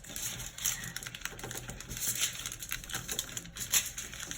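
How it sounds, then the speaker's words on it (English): Aluminium foil is pinched and molded by hand into a sculpted shape, giving quick close crinkling and crackling bursts in an irregular rhythm, with no talking. "we're just going to pinch the foil together."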